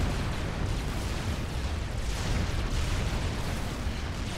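Artillery fire from a demolisher unit in Supreme Commander 2, firing two-shell volleys, forms a dense, continuous barrage of booming blasts and rumble, loud and sustained throughout.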